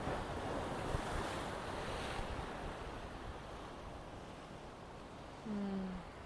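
Soft, continuous wash of sea waves with a breezy hiss, fairly distant and calm; a brief faint tone sounds near the end.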